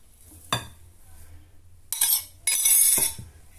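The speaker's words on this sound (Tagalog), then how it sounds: "So ngayon, ihalo na natin yung aking oatmeal." A spoon stirs oatmeal into muffin batter in a bowl, giving a few separate clinks and scrapes against the dish with quiet gaps between them.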